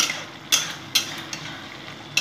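Aar fish curry sautéed and stirred in a pan, with a few sharp, separate scrapes of the utensil against the pan over a soft, steady background hiss.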